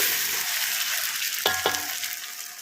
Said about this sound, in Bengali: যতক্ষণ পেঁয়াজ রসুনের কাঁচা গন্ধটা না যায় ততক্ষণ এটাকে একটু ভেজে নিচ্ছি ভালো করে